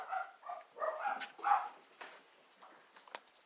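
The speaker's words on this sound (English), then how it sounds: "My dogs were barking because my husband just got home." Pet dogs barking indoors at home, several sharp barks in quick bursts, fairly faint and slightly distant, trailing off into quieter yips.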